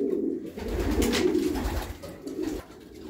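Racing pigeons of the Pitbull line cooing at close range, a soft continuous low burble of overlapping coos with no talk.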